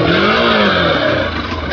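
Hero Xpulse motorcycle engine revving hard as the bike climbs up a bank beside a canal, a loud, close, steady roar that holds through the whole moment with a rising pitch.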